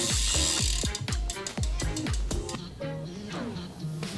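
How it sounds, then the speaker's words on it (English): Bicycle cranks spun by hand on a Dolan Ares, the freewheel ratchet giving a rapid run of sharp mechanical clicks that slows and fades toward the end, close and prominent. "Now we're going to spin the cranks round."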